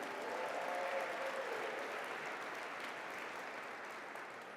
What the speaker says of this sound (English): How about a big round of applause for Zippy Duval, everybody?